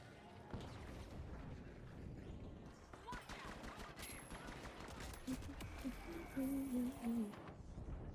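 Repeated bursts of V9S gunfire in the video game THE FINALS, in rapid cracks through the clip over busy game noise and effects, with voices talking.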